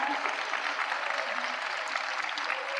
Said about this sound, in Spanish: Yo quiero agradecerles a Dani, a Cindy, vamos a darles un fuerte aplauso.